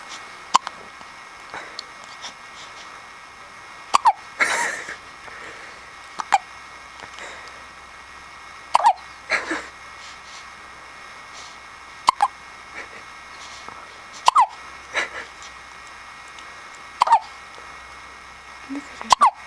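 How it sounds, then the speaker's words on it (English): A baby hiccups in short sharp squeaks that recur every two to three seconds across the stretch, close and fairly clear over a steady background hum. "Oh, you got the hiccups."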